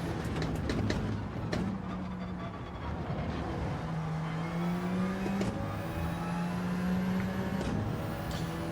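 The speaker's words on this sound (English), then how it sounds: "We can hear the howl of that engine." Gran Turismo race car engine howling in a video game race at Lago Maggiore, a steady loud drone with rising and falling harmonic tones as it accelerates and shifts, continuous throughout.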